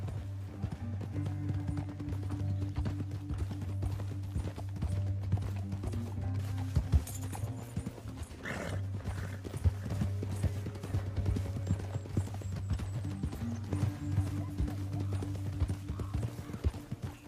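Horses' hooves clip-clop steadily on dirt while riding through a canyon in Red Dead Redemption 2, a continuous rhythmic clatter under a low rumbling game soundtrack, with a brief creak midway.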